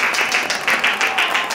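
A small group applauds with steady, lively clapping for about a second and a half, close and fairly loud, with no speech over it.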